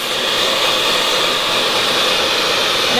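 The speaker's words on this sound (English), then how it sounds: "just blow the dryer downwards onto the hair" A hair dryer blows steadily and loudly at close range, a constant airy roar aimed down onto hair during a salon-smooth blow-dry, with no pauses and no talking.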